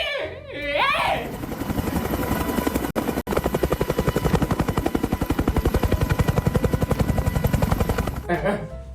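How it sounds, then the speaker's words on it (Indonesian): A helicopter's rotor chops in a fast, steady beat, loud and close for most of the clip, with voices talking at the start and end. "Khas banget ya suara helikopternya Putri"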